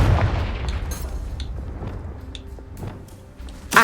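Confringo fire spell in Hogwarts Legacy bursting with a deep booming blast up front, followed by scattered sharp cracks and pops from game combat, moderately loud.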